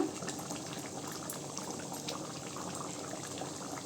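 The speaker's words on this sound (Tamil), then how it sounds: "கிரேவி நல்லா இந்த அளவுக்கு கொதிச்சிச்சுங்க" Country chicken gravy bubbles at a steady boil in a pot, a continuous close, dense simmering gurgle with no voices over it.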